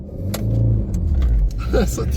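A car accelerating from a standstill toward 100 km/h, its engine a loud low rumble that builds steadily under ongoing talk inside the cabin.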